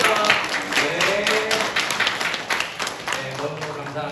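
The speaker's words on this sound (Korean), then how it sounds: "우리 박수 한번 다시 크게 치고" Church congregation clapping steadily in a large room, a dense patter of many hands that holds for several seconds at moderate volume.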